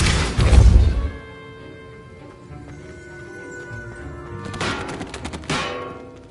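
Hogwarts Legacy's Depulso spell fires in a loud, sharp burst with a ringing tail. A quieter stretch follows, then a second, brighter burst of crackling bursts.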